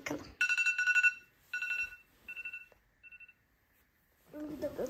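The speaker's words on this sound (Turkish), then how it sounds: "Alarm çalıyor." A series of bright electronic beeping bursts, several rapid pulses repeating in short groups with pauses, ending as a voice begins to speak.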